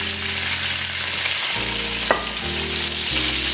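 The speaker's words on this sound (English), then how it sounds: "And just do a nice little sauteing of that." Chicken sautéing in a pan with a splash of white wine, a steady loud sizzle and crackle throughout, with brief stirring scrapes and one sharp clink partway, no voices.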